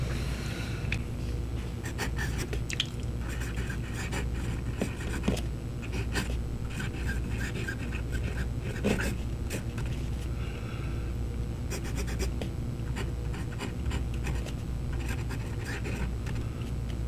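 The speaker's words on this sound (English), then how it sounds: "And then we'll put ink to paper." A Parker Victory MK V black fountain pen writes on paper with soft, close scratchy strokes in irregular bursts and short pauses, its light feedback audible over a quiet room hum.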